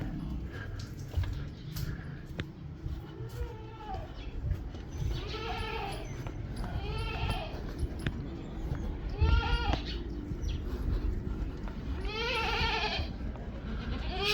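Goats in a Pakistani village pen bleat repeatedly while waiting to be fed grass, their loud, wavering cries coming one after another over low background rustling and shuffling.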